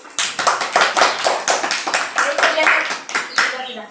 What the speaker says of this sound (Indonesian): tepuk tangan untuk Olin